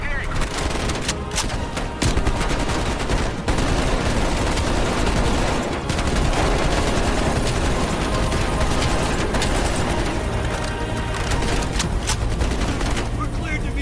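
Helicopter-mounted guns fire in Call of Duty Black Ops Cold War, a dense, loud, unbroken barrage of rapid shots and booming impacts that runs the whole time.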